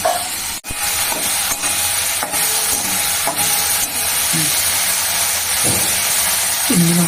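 Onion and spice paste with green chili fries in a pan for a prawn curry with kohlrabi and new potatoes, giving a loud, steady sizzle with repeated scraping stirs and one sharp knock early on, close up with no talk.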